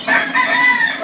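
A single rooster crows once, close and loud, a brief clear call with no talk over it.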